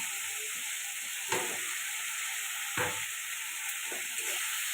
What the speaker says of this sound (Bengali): একটু জল দিয়ে মশলাটা ভালো করে কষাতে হবে মাছগুলো দিয়ে দেবো